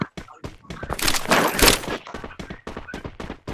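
Rapid bursts of gunfire ring out in the Free Fire video game, sharp repeated shots with a dense loud volley in the middle, close and punchy.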